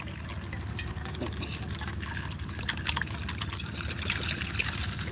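Bottled water poured into a dish set out for dogs in a backyard, a light continuous trickling and splashing that grows slightly louder toward the end, with no talk over it.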